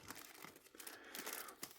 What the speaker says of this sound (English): I think I'm gonna use a plastic bag